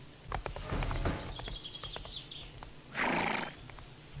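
A horse whinnies loudly at the start and again later, with hooves clip-clopping between the calls, in the video game 7 Days to Die, close and alone without talk.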